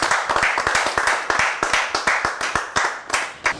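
Audience applause for contestant Suzy at the semi-final of a televised French make-up competition, with crisp individual hand claps forming a close, irregular ovation that rises and falls over a few seconds.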